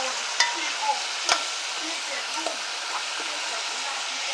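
Onion and garlic sizzle and fry in a pot alongside caramelized oxtail, a steady broadband hiss with a few sharp clanks of a utensil against the pan near the start, no voices.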